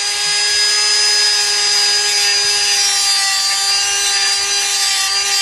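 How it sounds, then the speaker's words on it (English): Hand grinder cutting away a worn part on a Caframo fan during a DIY repair, one continuous loud, even high-pitched whine that holds without a break throughout. "So then I'm going to take my grinder and I'm going to grind this out."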